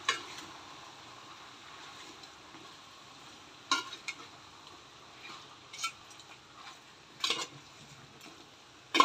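Village-style chicken stirred in a frying pan, a faint sizzle with several sharp scattered clinks and scrapes of a spoon against the pan, no talk.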